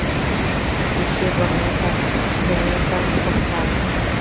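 Thoseghar waterfall roars as a dense, constant broadband rush, loud and steady with no breaks, while a voice speaks faintly underneath.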